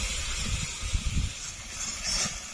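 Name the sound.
masala spices frying and sizzling in oil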